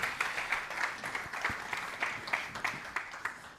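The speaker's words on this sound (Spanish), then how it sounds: "Un aplauso para ellos, claro que sí" Applause from an audience at a technology forum in Valencia, a dense steady patter of many hands, fairly soft and distant, with no speech over it.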